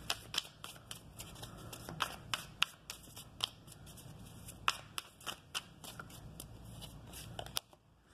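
A deck of oracle cards being shuffled by hand, giving a steady run of crisp riffling snaps and slaps at close range, quiet and without speech.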